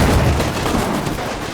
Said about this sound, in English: we are taking some very nasty shots in return